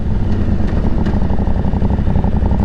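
An Aprilia Tuareg with a stage 3 setup revs its engine, the loud, raw exhaust rumbling continuously and close up with a rough, throbbing edge.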